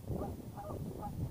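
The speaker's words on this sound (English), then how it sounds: "I think these geese might be nesting here. Because they're going nuts now that I'm over here." Nesting geese honk repeatedly in a rhythmic series of loud, close calls about half a second apart, agitated and uninterrupted by talk.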